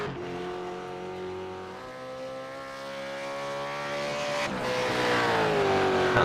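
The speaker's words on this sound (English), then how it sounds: "Can't beat that sound of a V8." Sustained V8 Supercar engine note in a racing simulator at Suzuka, a steady loud drone that climbs in pitch as it revs, briefly dips around the midpoint, then rises again louder toward the end, with no talking over it.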